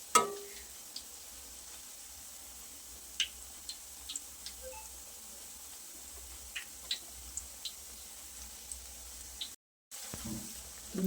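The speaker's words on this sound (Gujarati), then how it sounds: "બંને સાઈડ સરસ ફેરવતા જઈશું ને એકદમ ક્રિસ્પી ગોલ્ડન બ્રાઉન કલર આવે ત્યાર સુધી એને ફ્રાય કરવાના છે." Green pea bhajiya fritters frying in hot oil until crispy, a quiet steady sizzle dotted with small ticks and pops of turning or stirring.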